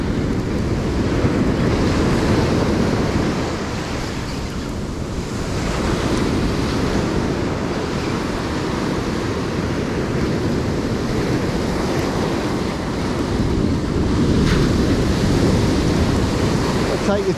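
Ocean waves surging and washing onto a surf beach where someone fishes for tailor, a loud continuous roar of broken water with swells rising and easing, mixed with gusty wind on the microphone.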